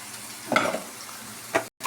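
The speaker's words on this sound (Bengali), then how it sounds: "এখন সবকিছু মিলে নেড়ে চেড়ে নিব।" Salt, turmeric and coriander powder frying in a pan are stirred with a spoon, giving a soft continuous sizzle marked by two brief scraping stirs.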